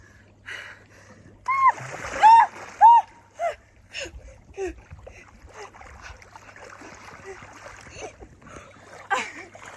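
A person takes a cold dip in outdoor water in the Malvern Hills, with splashing and sloshing and loud gasping voiced exclamations that rise and fall over a few seconds.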